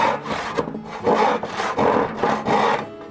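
Handsaw strokes rasping through a wood board, a steady back-and-forth rhythm of about six close, loud strokes finishing a cut with the offcut supported by hand.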